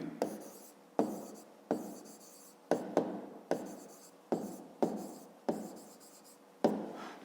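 Handwriting with a pencil or pen, a series of about nine sharp scratchy strokes, each starting abruptly and fading, close and clear with no voice over them.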